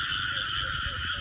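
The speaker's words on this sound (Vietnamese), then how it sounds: "ếch thịt cũng trọng trọng nha" A frog croaking in a field at night, a steady buzzing, raspy call that carries on without a break across the short moment, close and fairly loud, with no talk.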